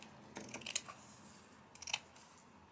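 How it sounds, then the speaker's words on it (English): Scissors cut through a thrifted leather wallet, a few quiet crisp snips in two small clusters close by, with no talking. "So I'm just going to cut along here."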